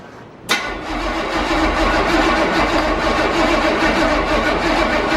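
A car engine cranks and fires with a sudden burst, then settles into a steady, loud idle that runs on alone.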